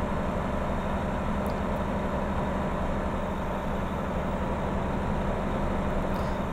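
A truck engine in American Truck Simulator drones at high revs, a dense steady roar that stays loud and unbroken with no talk over it.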